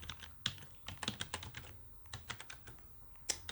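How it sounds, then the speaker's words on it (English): Irregular, quiet keystrokes on a computer keyboard while entering an Excel formula, close and soft, with a few sharper clicks scattered through. "So this is how I'm gonna type it out now."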